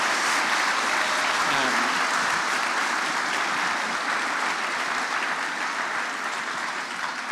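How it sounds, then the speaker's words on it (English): Sustained applause from a large audience at a languages and careers festival, dense and steady clapping that fills the whole stretch and tapers only slightly toward the end. "give them a round of applause for their contribution today?"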